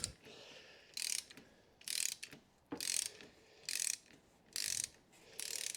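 Ratchet turning a 27mm socket on the oil filter of a 2020 Ford Ranger 2.0 diesel, heard as six short, sharp bursts of rapid clicking separated by brief pauses, close and with no one talking.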